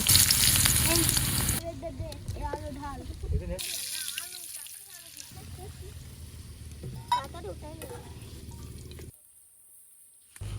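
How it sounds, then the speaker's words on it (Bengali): Potatoes frying in a pan during a village outdoor cook, a loud hissing sizzle at first that settles into a steady crackle with occasional stirring, and a voice talking at times. "আলুটা ভালোভাবে ভেজে নেব"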